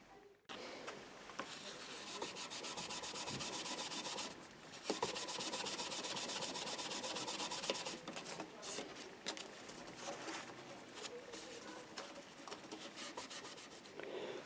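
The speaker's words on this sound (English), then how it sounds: "we're just giving it a quick rub with some steel wool, some quadruple zero steel wool" A Fender DG3 acoustic guitar's frets are rubbed with 0000 steel wool behind a fret protector, giving close, steady scratchy scrubbing strokes in a continuous rhythm with a short pause midway.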